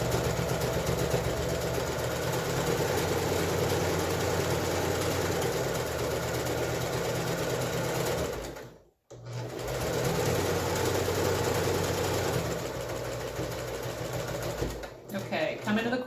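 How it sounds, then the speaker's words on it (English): A sewing machine runs continuously at a steady whir while stitching a face mask seam, pausing briefly once before resuming close up. "I'm just going to go straight down to the other end"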